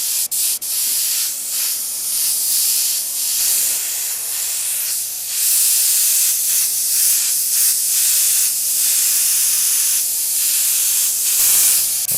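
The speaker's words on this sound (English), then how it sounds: "I'm just basically getting a lot of overspray on this is all I'm doing right now." Airbrush-style spray of silver paint being laid down as overspray, a steady continuous hiss with brief pauses and bursts, close and fairly loud, with no talking.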